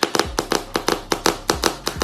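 An exaggerated slapping sound effect imitating booty clapping: about a dozen sharp, close, evenly spaced smacks in quick rhythm, each a crisp burst with a short thud, with nothing behind them.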